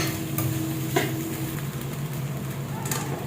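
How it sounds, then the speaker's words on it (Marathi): Sabudana being sautéed in oil with green chillies for sabudana khichdi, a steady soft sizzle with intermittent scraping stir sounds and a faint clink of utensil on pan, close and continuous without talk. "अगोदर तेलामध्ये साबुदाणा असं चांगला परतून घ्यायचा मिरची सोबत।"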